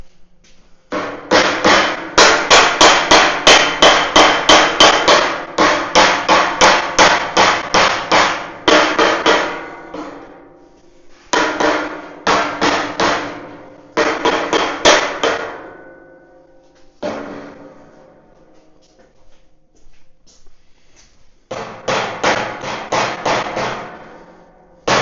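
A metal hammer raps repeatedly on a steel frame for a 3,500 lb trailer. Loud, close, ringing blows come in rapid runs separated by short pauses, with no talking.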